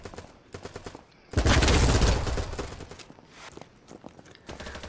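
An MP7 submachine gun fires in rapid automatic bursts in the game BattleBit Remastered, with sharp rhythmic shots before and after a dense, louder sustained burst of gunfire in the middle.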